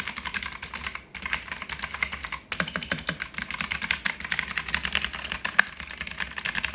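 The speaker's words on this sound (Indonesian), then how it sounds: "Kalau kalian tahu mechanical keyboard ini pakai blue switch," A mechanical keyboard with blue switches is typed on steadily, its sharp clicky keystrokes coming in quick, continuous runs up close with brief pauses.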